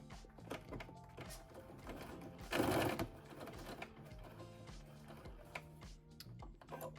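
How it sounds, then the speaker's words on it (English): A sewing machine stitches a denim jacket facing, running in a steady, rapid close-up rattle with a brief louder burst partway through and short pauses near the end. "You're going to stitch along the stitching lines and stitch again to reinforce inner corners"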